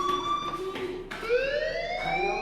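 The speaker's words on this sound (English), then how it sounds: "Hey, do you hear that fire alarm?" Fire alarm in the game Life is Strange, a loud electronic tonal wail repeating in short pulses and then sliding upward in pitch, close and steady.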